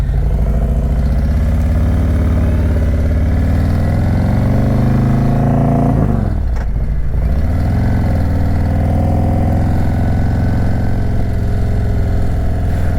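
A 2018 custom Harley-Davidson Road King Special touring motorcycle engine runs steadily and close by, with a smooth, deep idle rumble that dips briefly and then settles back to an even throb. No one speaks.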